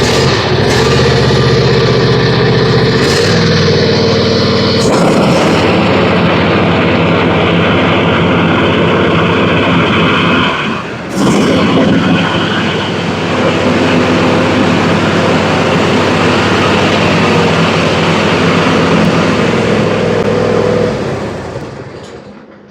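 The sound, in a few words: John Deere Z355 riding mower engine running with deck engaged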